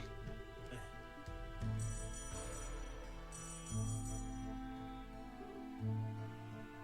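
A phone call rings in the video game Trails in the Sky SC, with three repeated ringing tones sounding at steady intervals over background game music.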